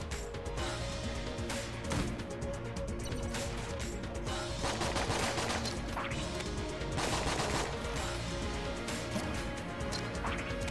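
Rapid bursts of video game gunfire in a dungeon-crawling shooter, dense crackling volleys with short gaps, layered over a steady musical backdrop, no talking.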